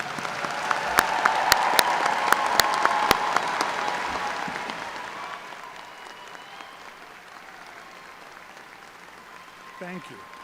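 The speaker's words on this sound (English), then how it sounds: "Let's all congratulate the graduating doctors with a round of applause." Graduating dentistry doctors receive a loud, sustained round of applause from a ceremony audience, dense clapping swelling in the first few seconds, then gradually thinning and fading toward the end.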